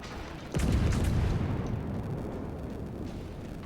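A naval cannon fires in a ship battle video game as one loud, close boom that trails off into a long rumbling decay over steady background noise.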